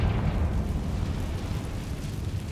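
The Confringo blast spell in Hogwarts Legacy goes off as a dense, rumbling explosion, a loud and sustained roar of noise heavy in the low end that fills the whole moment without talk.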